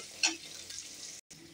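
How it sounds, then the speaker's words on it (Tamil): Thinly sliced large onion sautés in oil in a pan, giving a soft, steady sizzle with a brief stirring scrape near the start, close but quiet, with a short gap near the end. "அதை போட்டு நல்லா வதக்கிடணும்."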